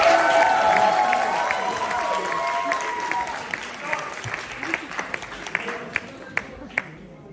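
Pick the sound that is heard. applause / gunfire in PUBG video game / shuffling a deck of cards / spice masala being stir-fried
applause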